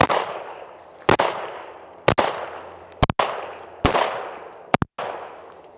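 Handgun shots fired during a drill of shooting while moving at 45-degree angles, heard as sharp, loud cracks about once a second, some as quick doubles, each followed by a short echoing decay, with no talking.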